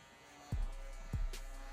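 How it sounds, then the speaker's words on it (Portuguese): Electric hair clipper fitted with a number 2 guard trimming hair from top to bottom during a taper fade, a steady low buzz with two brief louder bursts as it passes through the hair. "nós vamos dar uma quebrada nesse volume aqui com a máquina 2, com o pente de número 2 na baixa, de cima para baixo"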